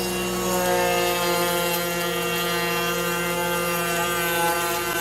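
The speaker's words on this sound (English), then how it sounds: "that's actually about 3/8 of an inch cut I'm taking with that spindle" Spindle of a dustless slab flattening machine taking a deep 3/8-inch cut across a wood slab, giving a steady loud whine with a sustained harmonic hum that holds evenly throughout, no talking.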